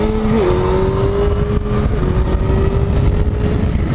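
A motorcycle engine drones loudly and close on a sunny, dry road, its pitch stepping up briefly early on and then holding a strong, steady tone as it accelerates.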